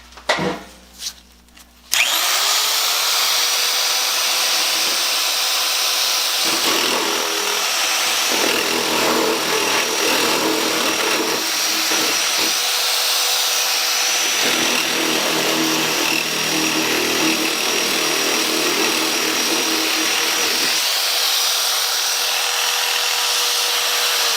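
A Bosch 1530 nibbler with a dull punch and die chews through sheet metal, a loud, continuous buzzing whine up close that runs unbroken for about twenty seconds with rough, grinding chatter along the way.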